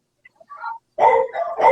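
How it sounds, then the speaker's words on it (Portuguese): A neighbour's dog barks in the background during an online live chat. Several short, fairly faint barks come from a distance, with no one talking over them. "a gente está com algum cachorro aí de fundo que quer participar da live"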